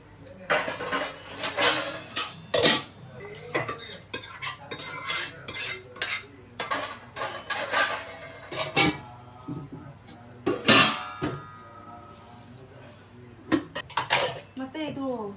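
Kitchen dishes and utensils are stacked and put away after the midday meal, giving repeated close clinks and metallic clatters at an uneven pace, with talking in between.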